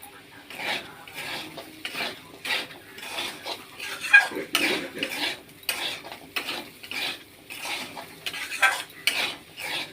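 Sago khichuri being stirred and sautéed with ground spices in a pan: a close, regular run of scraping spatula strokes against the metal, roughly one or two per second, over a soft background sizzle, with no voices.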